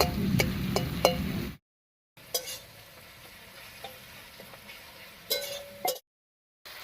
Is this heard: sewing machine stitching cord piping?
no